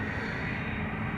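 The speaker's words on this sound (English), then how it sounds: "the turboprop PC-12 taking off from runway 22" A turboprop Pilatus PC-12 takes off from runway 22, a steady, dense broadband engine roar holding at constant loudness throughout, loud and close with no voices.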